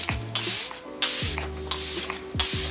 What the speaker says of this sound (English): gonna go again with this setting spray